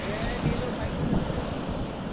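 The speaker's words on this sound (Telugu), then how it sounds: "అలలు పెద్ద పెద్ద వస్తున్నాయి." Large waves breaking on Thantadi beach near Vizag, a steady broadband roar of surf with wind buffeting the microphone, continuous and fairly loud with no clear speech.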